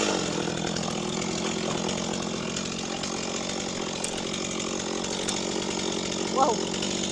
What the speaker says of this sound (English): Don't get your chainsaw stuck.